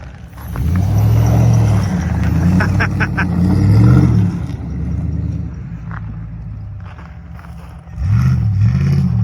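An all-wheel drive car spins donuts in the snow, its engine revving loud and close in repeated surges that rise and fall. A voice speaks over the engine in places.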